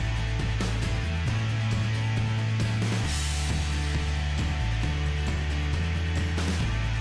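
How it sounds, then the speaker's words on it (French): Power sander working over the varnished surface of a standard Ikea coffee table, a loud continuous motor hum whose pitch steps up and down as pressure changes, with constant abrasive hiss on top. "Et je vais d'abord poncer la surface."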